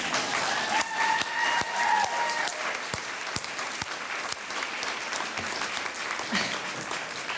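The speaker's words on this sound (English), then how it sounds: "Now you can applaud." An audience at a 2022 Dare County Board of Education candidate forum applauds in a room, with sustained clapping that thins out into scattered claps.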